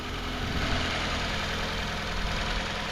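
A 1998 Toyota Corolla Levin coupe's 4A-FE four-cylinder engine idles close up under the open hood, a steady low rumble with an even mechanical throb and slight vibration and no break throughout.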